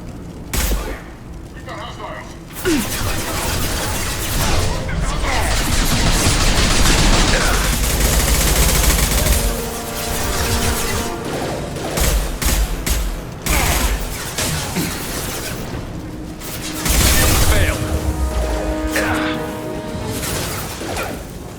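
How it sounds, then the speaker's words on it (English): Blue Suns mercenaries and Vorcha trading gunfire in the video game Mass Effect 2, dense rapid shooting and booms sustained over a long stretch with mechanical clatter, loud and continuous. "Blue Suns and Vorcha shooting anything that moves."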